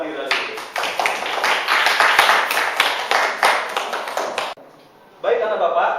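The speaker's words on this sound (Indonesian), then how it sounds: "Aplaus buat Dira dulu." A classroom of students breaks into loud, dense applause for a classmate, with clapping sustained for several seconds, a brief pause, and a fresh burst.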